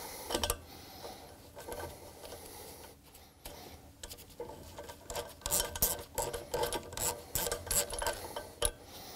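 A 24mm wrench loosening the nut on the seed disc of a Tempo seed row unit: close metallic clicks and ratcheting scrapes in irregular bursts, with a few sharper knocks near the end.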